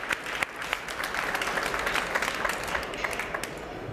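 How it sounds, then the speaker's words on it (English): A small audience claps steadily for a few seconds, a dense patter of hands from a modest crowd nearby. "First, a nice round of applause."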